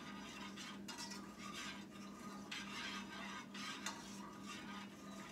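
A spoon works hot fudge into a cream liquor mixture, giving quiet, soft scraping strokes at a slow, uneven rhythm over a faint steady hum.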